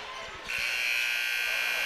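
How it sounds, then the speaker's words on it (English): A basketball game buzzer sounds at a boys' high school district semifinal between Lexington and Shelby: a loud, sustained electronic tone that starts partway through and holds steady to the end, over arena crowd noise. "And Bruskotter throws it up at the buzzer."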